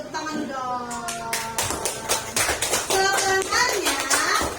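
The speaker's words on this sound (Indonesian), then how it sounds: "Tepuk tangan dong." A group of children claps in quick, uneven bursts, the slaps overlapping into a brief round of applause while young voices chatter and call out over it, fairly close.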